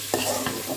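Chopped tomatoes stirred into browned masala in a pan, giving a couple of close scraping strokes over a steady sizzle, with no talk.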